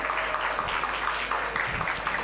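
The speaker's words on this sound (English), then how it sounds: "I can expect the big round of applause." Audience applause at a national seminar, a steady patter of many hands clapping at moderate level, fairly distant and unbroken for the whole stretch with no voices over it.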